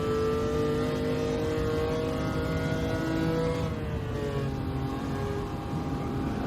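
A race car engine drones loud and steady in a racing game. The pitch holds and then drops at a slow gear shift near the midpoint before it climbs again, with no voices over it.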